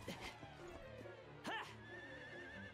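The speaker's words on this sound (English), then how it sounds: "there are two random horses that spawned in right now" A horse in the Dragon Quest XI S video game gives a sharp whinny with a rising, wavering cry, set over game music and ambient sound, with another brief neigh earlier.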